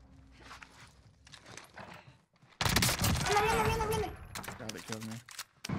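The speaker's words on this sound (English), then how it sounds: "Flashbang going up." A flashbang grenade goes off in the Warzone battle royale shooter game, a sudden loud blast followed by a sustained ringing burst lasting over a second, with someone talking over it and faint gunfire and footsteps around it.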